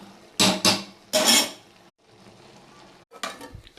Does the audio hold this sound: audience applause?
no